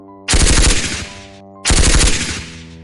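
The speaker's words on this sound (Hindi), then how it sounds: "उस आदमी ने एक बार फिर से फायरिंग की," Two loud, close bursts of rapid gunfire sound effects in a Hindi audio drama, each lasting about a second with a brief gap between them, with no talking.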